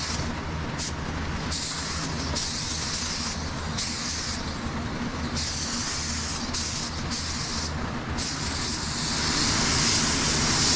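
Spray gun applying epoxy primer to a car body, a steady loud hiss with repeated brief pulses as the trigger is worked, no talk.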